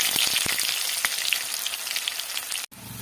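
Cumin seeds fry in hot oil in a wok (kadai) at the start of a spicy fish curry, giving a close, steady crackling sizzle that cuts off abruptly near the end.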